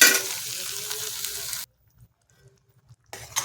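A pan of Bengali cabbage kofta curry, with a ground paste of green chilli, ginger, cumin, cashew, raisins, poppy seed and white sesame plus water, bubbles with a loud close sizzle for over a second, falls nearly silent, then sizzles again briefly.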